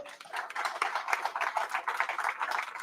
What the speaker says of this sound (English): Round of applause for Elvis.